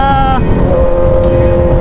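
A motorcycle on its first ride hums along with a steady engine tone under heavy wind rush, loud and close, while someone talks over it.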